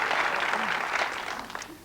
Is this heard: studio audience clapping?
yes